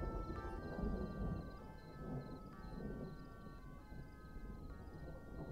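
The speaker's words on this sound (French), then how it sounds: "C'est tellement stylé, le tonnerre." Thunder rumbling during a night scene in a police patrol video game, a low, fairly faint rolling rumble with a steady tonal game soundtrack layered over it.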